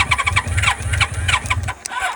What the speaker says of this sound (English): It's trying to start.